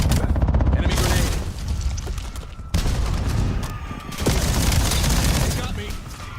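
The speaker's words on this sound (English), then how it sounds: "Enemy grenade." Enemy grenade exploding in a shooter video game, a heavy boom amid sustained gunfire and battle noise, loud and dense throughout with a short break partway.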